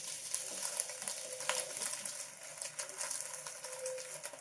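Pork fat renders into lard in a pot on a Kitchen Queen 380 wood cookstove, giving a dense continuous sizzle with scraping stirs, close and steady, with no talking.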